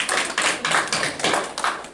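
A church congregation claps together during a sermon, a dense round of applause pulsing in several bursts, loud and close, with no voices over it.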